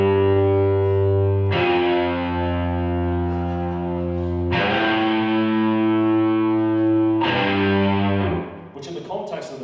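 Distorted electric guitar power chords played up the octave ring out as three long, heavily saturated sustained chords with effects, each struck loudly and left to ring before the next, with a brief tail of clutter at the end.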